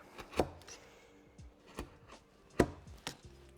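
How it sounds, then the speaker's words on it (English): A Mentsukitou carving tool splits out wood grain with sharp, separate cracking chops, about five over a few seconds and moderately close. Faint scraping sits between the strokes, and no one speaks. "as I put my power down the edge, it's splitting out the grain in front of it"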